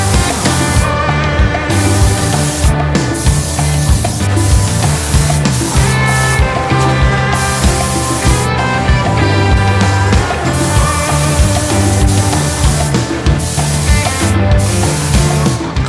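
Clear coat sprayed onto a Harley-Davidson FXR rear fender inside a paint tent, a steady loud spray hiss running throughout with short pauses between passes, no voices.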